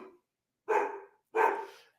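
A dog named Django barks twice at a FedEx delivery man, two loud close woofs about two-thirds of a second apart, each trailing off, with near silence around them.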